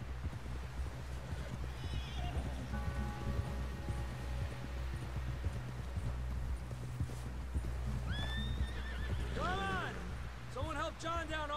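A horse in the Red Dead Redemption 2 video game clip-clops steadily at a walk while neighing and snorting near the end, with someone speaking over the hoofbeats.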